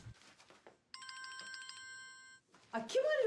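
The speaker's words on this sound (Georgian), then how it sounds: "ტელეფონი გირეკავს." A telephone rings with a bright, repeating electronic tone pattern held for about a second and a half, with people speaking before and after it.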